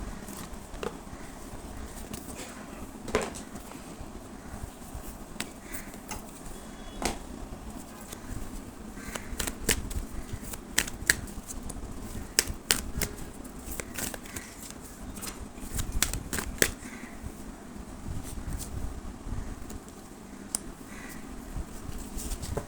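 Angel cards being shuffled make quiet, irregular papery flutters and ticks that come in short bursts, grow busier midway, and stay faint against low room noise.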